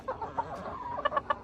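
Chickens on a ranch cluck and murmur close by, soft overlapping calls that build into a quick series of sharper, rhythmic clucks toward the end.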